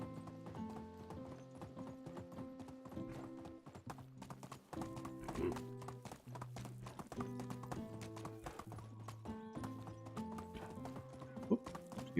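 Horse hooves gallop at a steady, fast clip-clop rhythm in the medieval survival game Medieval Dynasty, close and continuous beneath layered game music, with a brief whinny partway through.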